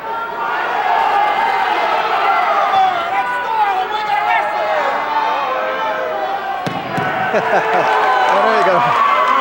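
Wrestling crowd at a 2006 high school match between Paulsboro and Jackson, loud sustained chatter and calls filling a gym, with a sharp surge near the end and commentators talking over it.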